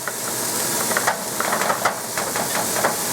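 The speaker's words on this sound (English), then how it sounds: "And we'll let it simmer for a little bit longer" Chicken marsala simmers in a pan, giving a steady close hiss of steam with small bubbling pops and crackles throughout, without voices.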